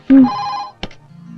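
A telephone rings once in a police station office, a loud electronic ring with a sustained harmonic tone, followed by a brief sharp clack and a faint low hum.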